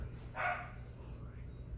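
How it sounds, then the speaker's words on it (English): A dog gives a single faint, brief bark in the background of a quiet indoor room. "Sorry if my dog Angel starts barking"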